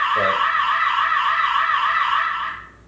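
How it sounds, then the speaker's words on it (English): A Lorex security camera's built-in siren wails steadily with a loud, fast warbling electronic tone, then cuts off near the end. "It does have a siren."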